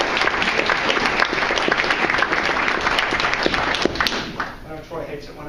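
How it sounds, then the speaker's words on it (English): An audience at a public meeting gives a round of applause, many hands clapping in a dense, fairly loud burst that thins toward the end as a voice begins talking over it. "Would you guys join me in a round of applause?"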